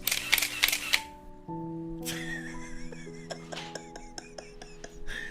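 A few quick camera shutter clicks, then chiming tones and scattered light clinks ring out against a quiet background.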